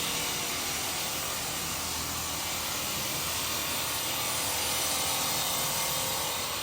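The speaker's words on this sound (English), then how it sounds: "So they're going to cut these diagonally at first." Lumber pieces cut diagonally on a factory line, a steady broadband saw-and-machinery roar filling the space continuously, loud and close with no pauses or talk.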